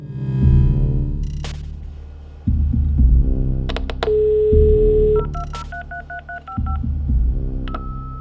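A modem connecting over a telephone line: low hum and dial tone, then a quick run of touch-tone dialing beeps and short electronic tones, clear and close.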